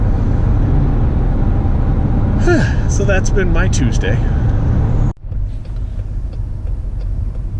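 A faulty hybrid car is driven along a road: steady in-cabin road and engine rumble runs through the clip, a person talks briefly over it, then the noise drops suddenly and resumes more quietly.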